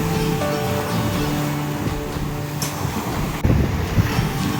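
Black Sea waves wash onto a beach in Odesa, Ukraine, a continuous surf rumble with wind noise and a louder surge near the end.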